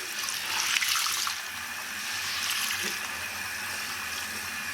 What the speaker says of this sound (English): now I'm rinsing, and the colors are still not coming out